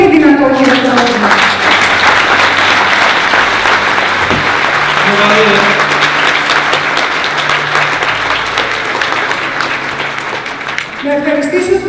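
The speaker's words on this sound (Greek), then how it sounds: "Τους αξίζει ένα πολύ πολύ δυνατό χειροκρότημα." Loud, sustained applause from a large audience at a corporate health and beauty company event, dense clapping running throughout with a voice talking faintly over it near the start and end.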